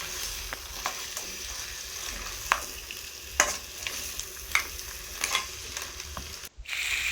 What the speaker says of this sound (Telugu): మసాలాస్ అన్నీ ఇలా పీతలకి పట్టేలాగా బాగా కలుపుకోవాలి